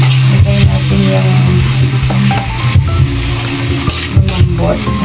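Thin slices of pork marinated in oyster sauce, soy sauce and pepper sizzle steadily in a hot pan, with occasional scraping and stirring clatter and a voice speaking over the cooking.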